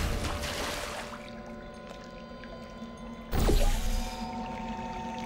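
Splashing, pouring water in the Portal 2 video game, a steady wash of flowing liquid with a louder surge near the end, heard alone without talk.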